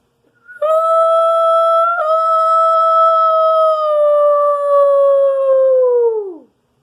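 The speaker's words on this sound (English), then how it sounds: "My dog is upset." A dog howls in one long, loud, sustained tone that holds steady, then falls away at the end, close and alone with no talking.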